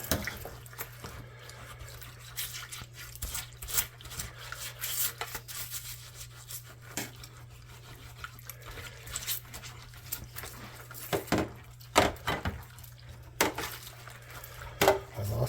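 A brush scrubs opened instruments held underneath in a mock kitchen decontamination, giving irregular rubbing and wet scraping strokes in bursts, fairly close, over a low steady hum.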